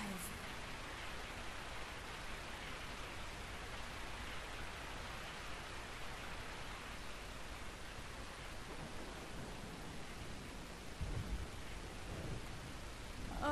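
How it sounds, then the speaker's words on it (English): Steady falling rain in the survival horror game Resident Evil 3 Nemesis, a dense hiss of downpour heard throughout with a low rumble near the end. "I woke up to the sound of falling rain."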